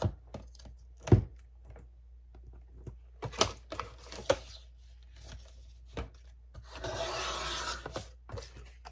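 Paper mini album being trimmed by hand: a series of close, sharp cutting snips and scratchy rubs scattered through, ending in a sustained rough scraping burst.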